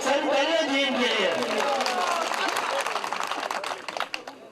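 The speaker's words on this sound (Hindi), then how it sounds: "बहुत सारी तालियां दी इनके लिए" An audience at a Natco birthday celebration in Gilgit applauds a Natco booking office employee, with a loud burst of clapping and crowd noise that thins into scattered claps. Voices are heard at the start.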